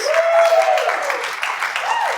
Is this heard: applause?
yes